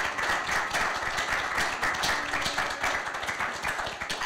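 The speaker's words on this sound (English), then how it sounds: "Could we have a round of applause for Dustin, Matthew, Jemma, and Michelle?" A seated audience gives a round of applause to an artists' panel, a fairly soft, even spatter of many hands clapping that continues without pause and without talk.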